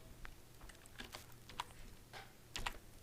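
Soft, steady typing of Python code on a computer keyboard, a run of light, irregular clicks with a few slightly sharper taps, faint and close with no talk.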